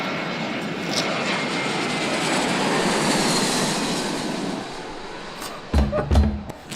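Airplane climbing in flight after takeoff in a video game: a broad, steady engine roar that swells and then eases off, followed by a few louder low thumps near the end.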